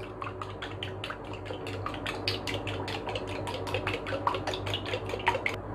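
Photosynthetic bacteria culture mixture being stirred in a container, a rapid series of sharp clinks and scraping knocks repeating steadily throughout at close range, no voices.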